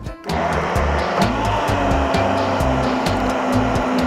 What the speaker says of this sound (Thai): ปั่นเลยค่ะปั่นปั่นทั้งทั้งที่มันยังร้อนอยู่นะคะ